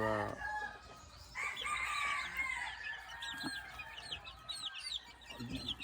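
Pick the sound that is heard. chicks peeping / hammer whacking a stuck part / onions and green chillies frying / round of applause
chicks peeping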